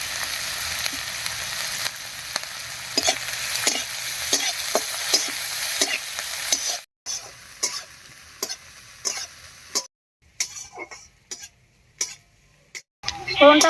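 Chopped onion, green chili and ginger hit hot oil with a loud sizzle and scattered stirring taps. The crackle drops after a few seconds to quieter, intermittent frying with spoon knocks.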